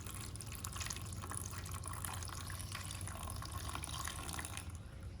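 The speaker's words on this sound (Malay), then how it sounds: "cikgu tuang air ke dalam dulang semaian" Water poured from a container into a seedling tray holding a sponge, a steady continuous splashing trickle running for several seconds at moderate level with no talk.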